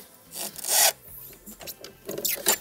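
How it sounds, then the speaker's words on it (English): Starter pull cord on a Toro Recycler 21-inch rear-wheel-drive lawn mower drawn out slowly, a close rasping slide in a few uneven bursts with quiet pauses between. "let's take the pull string, slowly pull that up"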